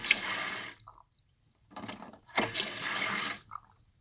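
Water running into a toilet tank as a ball cock valve is adjusted, bursts of rushing, splashing fill separated by quiet gaps, close and moderately loud.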